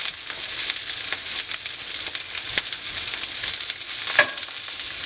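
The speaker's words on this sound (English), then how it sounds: "I make sure that my zucchini is on the skillet." Zucchini pieces browning on a hot skillet during a vegetable stir fry give a steady, close sizzling hiss, with a few soft stirring clicks and no talking.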